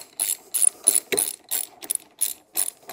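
A hand ratchet tightens handlebar bolts on a 48V 1000W MRF Mega Elite kids electric quad bike, giving a steady series of close, crisp clicking bursts in a quick back-and-forth rhythm, no talking.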